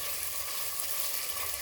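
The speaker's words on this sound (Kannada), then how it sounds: "ಈರುಳ್ಳಿನ ಚೆನ್ನಾಗಿ ಫ್ರೈ ಮಾಡ್ಕೊಳ್ಳೋಣ." Two medium-sized chopped onions frying in a pan for vegetable pulao, a steady dense sizzle that holds evenly throughout, close and moderate in level with no talking.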